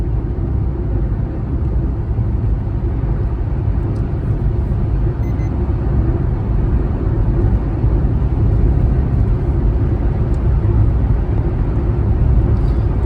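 A car drives through a 2-2.5 km road tunnel on the Samruddhi Mahamarg expressway, a steady, loud low rumble of engine and road noise enclosed by the tunnel, unbroken throughout.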